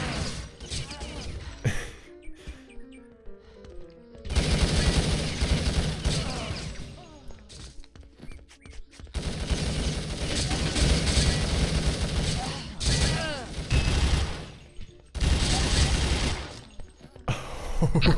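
Gunfire bursts and impacts from a competitive multiplayer shooter match, a Colt rifle landing a headshot, arrive in several loud dense stretches separated by quieter gaps, with a commentator's voice talking over parts of the action.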